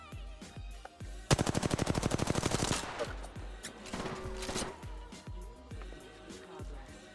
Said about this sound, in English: Cover fire for him.